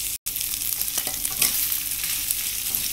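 Pork meatballs stir-fried in fragrant chili curry paste with long beans in a hot pan, a steady loud sizzle with a few scraping stirs and no talking.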